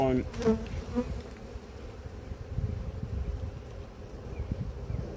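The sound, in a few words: bees buzzing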